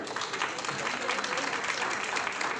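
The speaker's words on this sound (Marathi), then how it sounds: "आपण एकदा टाळ्या वाजवूयात का?" An audience claps together at a baby shower, a dense, steady wash of applause that holds at even strength from start to finish with no voices rising above it.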